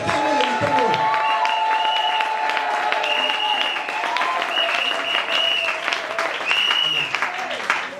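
A church congregation clapping together, sustained applause running through the whole stretch, mixed with voices and music.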